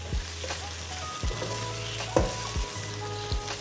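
Half a kilo of mixed chicken pieces frying with softened onions in a pan, a steady close hiss of sizzling oil broken by several scraping stirs and clattering spoon knocks.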